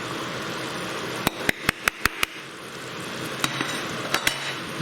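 Green chilies and spices fry in a pan for chicken karachi on the bone, a steady sizzle carrying a run of sharp clattering spoon knocks against the pan as the mix is stirred, with a few more taps near the end.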